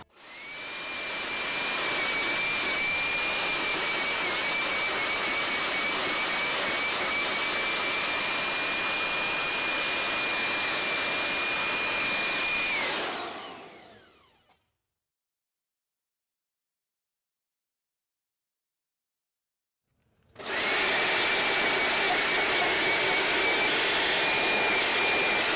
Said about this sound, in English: my router comes and it routes that mortise in a perfect line